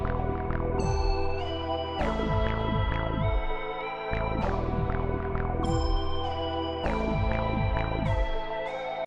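A chord progression built in FL Studio, layered with a melody and high top notes, plays alone as sustained synth chords with repeated plucked melodic notes on top, steady and clear throughout.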